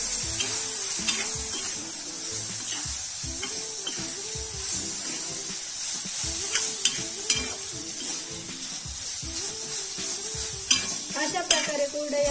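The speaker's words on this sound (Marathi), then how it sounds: "मसाले आपले चांगले परतलेले आहेत, त्यामध्ये आपण हे भिजू घातलेले कुरडई टाकू" Kurdai being stirred with spices in a frying pan, soft sizzling under a steady rhythmic scrape of a spoon against the pan, close and continuous, with occasional utensil clinks.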